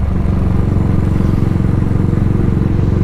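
A Cafe 400 motorcycle idles close by with a loud, steady, throbbing engine rumble that holds an even pulse throughout, with no talk over it.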